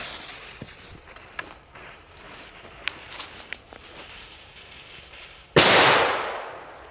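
A Mega Bulldog firecracker goes off outdoors about two metres away: a few soft footsteps and clicks, then one sharp, very loud bang that rings out and fades over the last second and a half.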